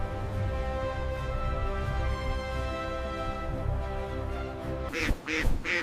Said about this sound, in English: It's a pekin duck.